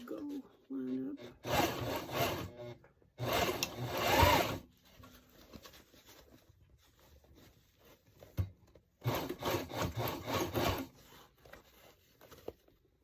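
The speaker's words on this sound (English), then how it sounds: "I have a flathead screwdriver that I'm trying to feed in and trying to feed it and keep it straight" A flathead screwdriver is worked through an embroidered fringe bag, giving bursts of close scraping and rubbing friction in three loud stretches separated by quieter fumbling.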